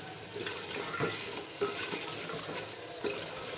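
Boiled mutton chops frying in masala in a pan, with a steady close sizzle and occasional stirring or scraping sounds, fairly constant throughout with no talk.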